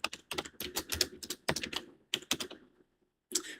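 Rapid bursts of keystrokes on a computer keyboard as notes are typed, close and clear, with a brief pause near the end before the clatter resumes.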